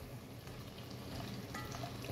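Short ribs sear in a pan over the flame, a soft, steady sizzle with light crackle, close and fairly quiet, with no voices over it.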